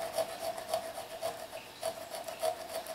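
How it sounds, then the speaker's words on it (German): Steady back-and-forth rasping of a hand saw cutting through a butternut squash, with regular strokes about every half second, close up. "Jetzt brauche ich meine Säge. So, hier wird jetzt schön ausgesägt."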